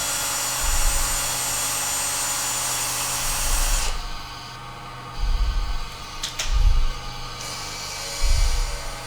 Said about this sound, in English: you could see that you're grinding that face